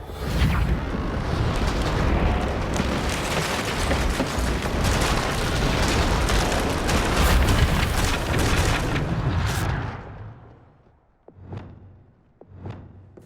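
A Confringo fire spell blasts in the Hogwarts Legacy video game, producing a long, loud, rumbling explosion. It then falls away and is followed by two short, sharp pops.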